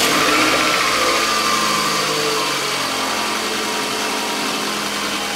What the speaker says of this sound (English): So I'm going to go ahead and start the car